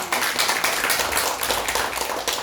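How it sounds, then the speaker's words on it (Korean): A church congregation claps through a Sunday morning worship service, dense sustained applause from many hands filling the room at steady loudness, with no voices. "박수."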